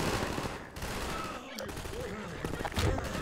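Half-Life 2 gunfire aimed at a melon crackles in quick repeated bursts, loud and close, with a person talking over the shots.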